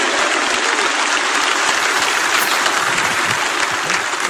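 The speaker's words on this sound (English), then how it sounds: "Clap your hands and say amen," A church congregation claps during a sermon, a dense, steady wash of many hands that fills the whole stretch at even loudness with no pauses or voices standing out.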